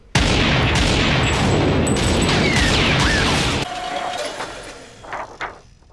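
Rapid bursts of gunfire from a film scene roar loud and dense for several seconds, then cut off, leaving scattered fainter mechanical clatter and echoes.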